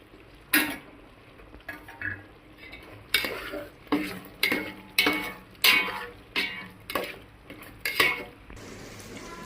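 Repeated scraping strokes of a spoon stirring tamarind juice into frying tempering in a pan, about a dozen in a steady rhythm, with a faint sizzle underneath.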